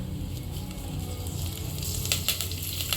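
Mustard seeds, cumin and curry leaves sizzle in hot oil in a pan for a tempering, a steady close frying hiss with sharper crackling pops building toward the end.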